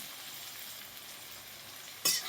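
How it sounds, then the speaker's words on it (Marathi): Plenty of chopped onion fries in a pan with a quiet, steady sizzle, ending in a sudden sharper scrape or hiss of stirring near the end. "कांदा आपण व्यवस्थित भाजून घ्यायचा आहे बघा।"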